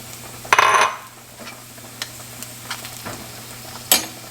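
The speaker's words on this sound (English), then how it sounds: "And give this a good stir." Spoon stirring tomato paste in a pan for a creamy prosciutto pasta: a few scraping, clinking strokes against the pan over a low steady background, with one louder scrape near the start and another near the end.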